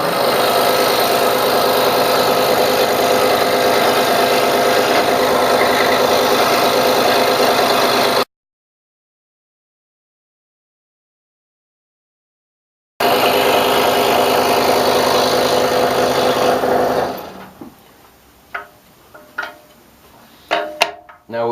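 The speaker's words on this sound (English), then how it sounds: "So I'll start cutting now." A powered saw cuts wood for a candle holder with a loud continuous motor whine, breaks off, resumes, then winds down into scattered clicks and knocks from handling the workpiece.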